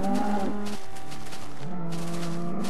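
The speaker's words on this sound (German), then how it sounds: "Kuh." A cow mooing in the Minecraft video game, loud and close, with long low drawn-out moos filling the moment and no talk.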